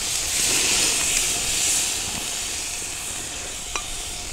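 Flat iron steak sizzles on a Fuego Element gas grill, giving a steady loud hiss with a few small pops and taps as the meat is turned.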